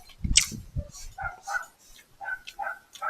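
A dog gives a few short barks and yips up close, followed by higher whimpering cries in quick irregular bursts.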